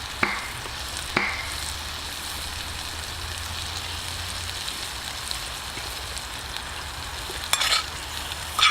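Vegetables frying with mozzarella in a camp pan, a steady close sizzle with a few sharp clinks of stirring near the start and end.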